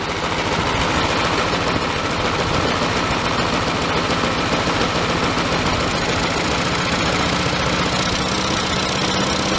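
A small lawn mower engine running at low RPM, a loud, close, rapid rough chugging and knocking that holds steady throughout with no talking.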